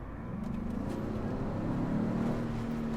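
A turbocharged 375-horsepower Ford Expedition Platinum engine accelerates hard, a steady low drone rising in pitch as it pulls, heard from inside the large SUV with no talking.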